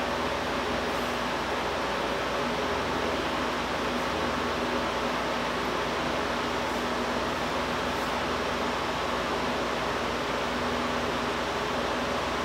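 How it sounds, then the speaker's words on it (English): A Millers Falls 1 hp, 110-volt ball bearing bench grinder with 8-inch wheels, set to 3,450 RPM, runs steadily with a constant whirring hum and broad airy noise, close by and without talk. "It's a ball bearing grinder."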